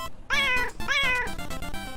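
A kitten in the Underrail video game meows twice in quick succession, loud and close, bright drawn-out cries with no talking over them.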